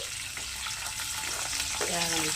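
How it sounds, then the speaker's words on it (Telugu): Onions with curry leaves and tempering seeds sizzle steadily in hot oil, a dense, continuous frying hiss close to the pan, with a brief scraping stir near the end. "ఉల్లిపాయలు వేగుతున్నాయి"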